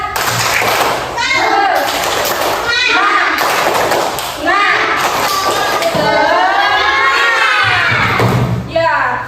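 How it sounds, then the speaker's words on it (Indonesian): Schoolchildren in a classroom chanting and clapping in rhythm together, loud voiced chant with bursts of claps and thumps, close and lively. "jadi kita tepuk semangat dulu ya. Tepuk semangat."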